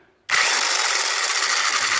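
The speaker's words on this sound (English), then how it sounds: "And I have my impact wrench here." An impact wrench spins up abruptly and runs in a continuous high whir for about two seconds on the centrifugal clutch of a Tecumseh 6.5 hp Carter Brothers go-kart.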